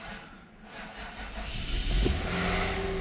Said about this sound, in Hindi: तो ये जी गाड़ी स्टार्ट हो चुकी है हमारी